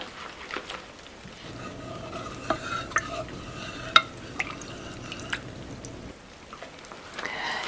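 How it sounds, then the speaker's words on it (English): Spooky cookie batter being stirred in a bowl, a soft scraping swirl with a few sharp clicks of the utensil against the bowl, close and quiet with no talking. "Give it a little stir."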